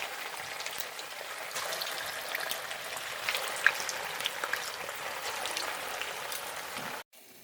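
A steady, crackling sizzle of rice-flour vada deep frying in hot oil fills the clip, close and even throughout, with no talking.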